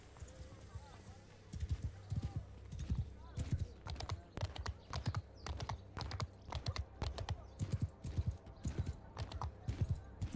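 Horse hooves clatter in a fast, regular galloping rhythm in Mount and Blade 2 Bannerlord, close and prominent, with a voice speaking briefly underneath at times.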